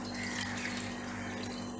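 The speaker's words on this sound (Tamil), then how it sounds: "ஸோ இதுக்கு இன்னும் ஒரு கிளாஸ் தண்ணி விட்டுடலாம்." A glass of water is poured into a simmering pot of vada curry, a soft continuous watery rush heard close and quiet over a low steady hum, with no talk.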